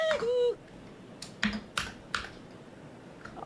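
A computer keyboard is struck hard in a few sharp, separated bursts of clattering keystrokes after a brief tonal sound at the start, with quiet gaps between bursts.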